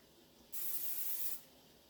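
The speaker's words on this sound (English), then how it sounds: "I'm going to spray some pan onto the rolling pin like this." One short burst of cooking spray hisses onto a rolling pin for about a second, close and clear against a quiet background.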